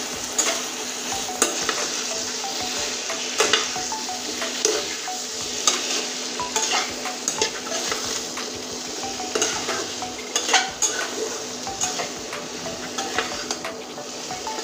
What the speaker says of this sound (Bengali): এবার আর একটু ভালো করে নেড়ে নেব।